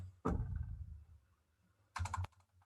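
Typing on a computer keyboard comes in two quick bursts of clattering keystrokes separated by a pause, close and moderately loud with no speech.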